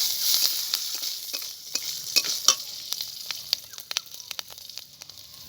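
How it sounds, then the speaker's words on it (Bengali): Whole cumin seeds and four or five green chillies frying in a pan with oil, a steady close sizzle with scattered sharp crackles and pops and some stirring, no talk. "কিছুটা গোটা জিরে দিয়ে দিচ্ছি। চার পাঁচটা কাঁচা লঙ্কা দিয়ে দিচ্ছি।"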